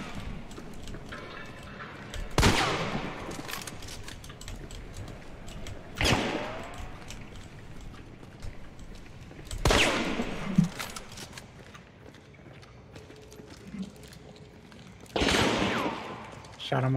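Gunfire in the online shooter Hunt: Showdown: four sharp, loud shots spaced a few seconds apart over a low game background, with a voice talking in between.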